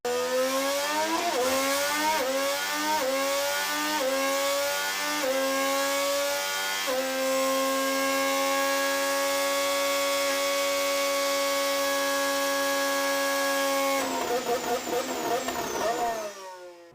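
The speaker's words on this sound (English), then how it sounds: "Honda, as one of the manufacturers of the engines, has officially released its engine sound for" A high-pitched 2026 Honda Formula 1 engine screams up through several quick gear changes, then holds a loud, steady whine before briefly shifting again.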